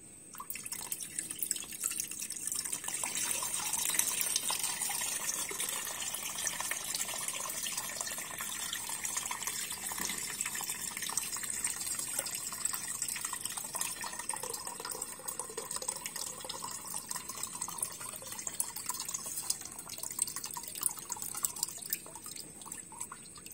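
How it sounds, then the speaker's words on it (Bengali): Water drains from an emptying water tank as a steady trickle with constant dripping, a faint, even rush that continues unbroken for over twenty seconds without voices. "এখন আমরা এটা খালি করে দেখাই ট্যাঙ্কিটা"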